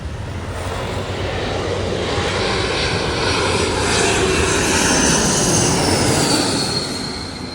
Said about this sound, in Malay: Oh, ni kapal terbang komersial ni, tumpang orang ni